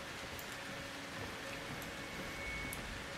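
Rain falling in the Outlast 2 horror video game, a soft, steady hiss of light rainfall with faint scattered drops, quiet and continuous with no speech.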